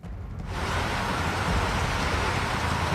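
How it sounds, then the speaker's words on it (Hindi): Heavy rain falling in Delhi as a dense, loud, continuous hiss that swells in within the first half second and holds steady, with a low rumble of traffic beneath. "दिल्ली में बारिश हो रही है"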